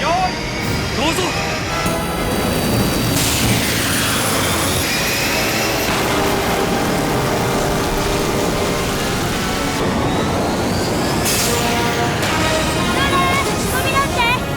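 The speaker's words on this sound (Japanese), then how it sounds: "メインエンジン点火" A loud, continuous roar of an animated spacecraft's main engine igniting after a mass driver launch, with rising whines and a heavy rumble, steady throughout with some tonal sweeps on top.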